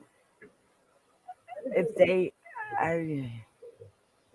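A cat gives two drawn-out, wavering meows up close, one right after the other, with a few faint small noises around them in an otherwise quiet room.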